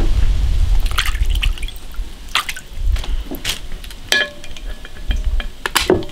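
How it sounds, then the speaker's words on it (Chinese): River snails being rinsed in water before stir-frying, giving scattered close drips, splashes and wet shell clatter with no talking. "这个螺丝泡几个小时，现在把它洗一下"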